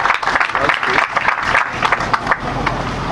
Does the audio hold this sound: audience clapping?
yes